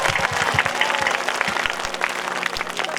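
An audience at a Bhojpuri Ram Katha gathering claps in a dense, sustained burst of applause, close and loud, with no break.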